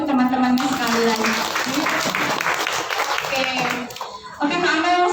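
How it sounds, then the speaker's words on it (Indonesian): An audience applauds with steady, dense clapping throughout, briefly thinning near the end before picking up again, while a presenter speaks over it. "Coba tepuk tangan dulu untuk teman-temannya sekali lagi."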